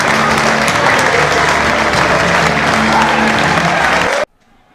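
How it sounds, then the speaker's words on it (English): A loud arena crowd in a wrestling video game cheers and applauds steadily for about four seconds, then cuts off abruptly into near silence. "And listen to this crowd."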